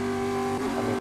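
A race car pulls out of pit lane in a racing video game after taking two gallons of fuel and four tires, its engine a steady, loud tonal drone that holds for about a second and then cuts off abruptly.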